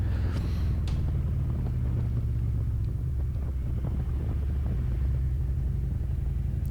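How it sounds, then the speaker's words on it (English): A truck passes close by on the road during a ride on a 2021 Harley-Davidson Road Glide Special, a loud steady low rumble with heavy wind buffeting across the whole stretch and no talk. "a truck."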